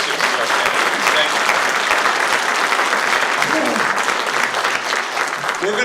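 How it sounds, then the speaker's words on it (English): Audience applause for six candidates at a Bristol Senate and House forum, steady dense clapping from a crowd filling the whole stretch, with a brief voice faintly audible beneath near the end. "Ladies and gentlemen, a round of applause for all 6 of our candidates"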